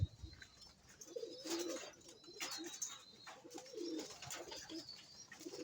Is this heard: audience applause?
no